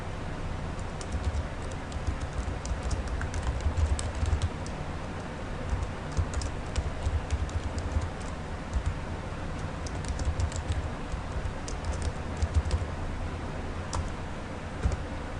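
Data goes into an Excel spreadsheet on a computer keyboard, with a steady stream of soft, close key clicks that keeps going and only rarely pauses.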